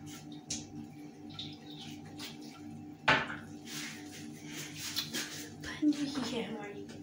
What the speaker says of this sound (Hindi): और अब हम इसे मिक्स करेंगे.